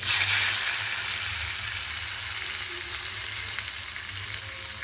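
A pickle tempering fries in a pan, giving a steady close sizzle with faint stirring and gently fading crackle over several seconds, and nobody speaks.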